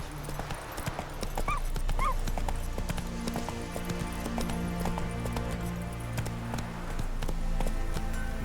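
Roach, a horse in The Witcher 3, gallops in a steady, loud clip-clop of hooves with a brief whinny, carrying on for several seconds over game music and ambience.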